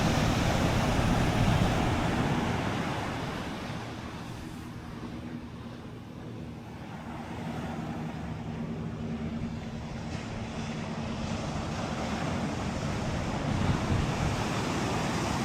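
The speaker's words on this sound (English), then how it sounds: "Now this is the Atlantic Ocean" Atlantic Ocean surf breaking along the Puerto Rico coast near Loíza, a continuous loud roar of waves that swells and eases, mixed with steady wind buffeting the microphone.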